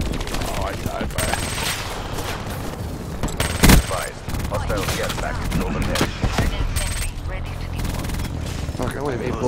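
Rapid automatic gunfire and explosive bursts from a first-person shooter match of Black Ops 3 fill a dense, loud mix. Players' voices and game sounds run under the shooting.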